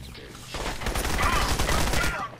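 Gunfire from cloaked enemies in the video game Crysis, a dense sustained volley of rapid shots that starts abruptly and rattles on loudly for about two seconds before cutting off.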